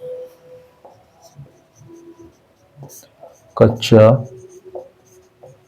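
Chalk or marker scratching on a board during a lecture on Indian taxation, a series of short soft strokes with pauses, with someone speaking briefly partway through.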